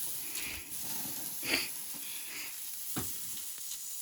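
Pork belly sizzles softly in a pan as its fat renders, a quiet continuous crackle with a few brief louder spits and stirring sounds and no speech.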